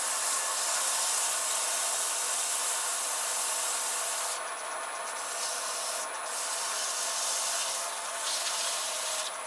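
A holly wood natural-edged bowl is sanded with 240 grit sandpaper on a lathe, giving a continuous close rasping hiss that barely changes from start to finish.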